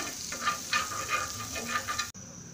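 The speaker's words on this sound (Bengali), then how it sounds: "প্রথমে তাওয়া খুব ভালোভাবে গরম করে নিতে হবে, দেন আমি বাটার দিয়ে দিচ্ছি" Butter sizzling on a hot tawa griddle, a steady close frying hiss with a few louder bursts, cutting off abruptly near the end.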